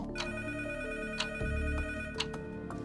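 A telephone rings softly in the background with repeated short trilling bursts, set under a steady low musical drone.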